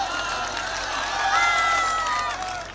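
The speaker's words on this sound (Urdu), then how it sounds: "شبینہ ادیب صاحبہ تشریف لا چکی ہیں، میں چاہتا ہوں ایک بار زوردار تالیوں سے ان کا استقبال کر دیا جائے۔" Audience at an all-India mushaira in Aliyabad applauds and cheers to welcome poets to the stage, a dense, loud wash of clapping and crowd noise with some voices mixed in.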